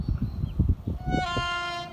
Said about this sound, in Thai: ขบวนรถด่วนพิเศษ ทักษิณที่สามเจ็ดนะครับ